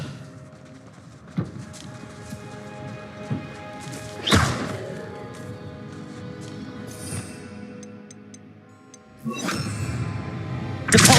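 Descendo spell impacts in the video game Hogwarts Legacy: several heavy thuds and crashes spread across the stretch, the loudest near the middle and end, over a low ambient game bed.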